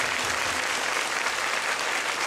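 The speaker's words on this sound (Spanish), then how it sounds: "unos aplausos" A crowd applauds loudly and evenly at the inauguration of the Radio Maya building, a dense wash of clapping with no voices above it.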